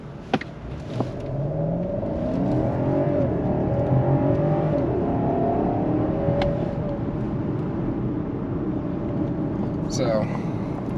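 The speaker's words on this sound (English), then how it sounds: "little 0 to 60 real quick off the line" A 2021 BMW 750i accelerates hard off the line in sport mode, a steady loud engine roar and whir rising in pitch as it builds speed, heard from inside the cabin.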